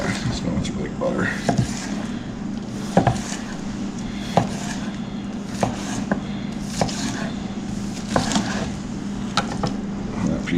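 A knife saws through crusty smoked pork shoulder steak in a series of crisp, crunchy cuts and small knocks on the board, while someone talks over them.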